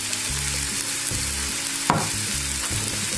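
Turmeric frying in hot oil for a South Indian tempering, a dense continuous sizzle over a low steady hum, broken by one quick metallic clink.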